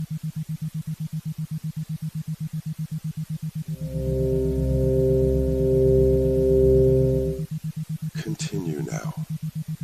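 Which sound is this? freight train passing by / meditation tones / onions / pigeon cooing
meditation tones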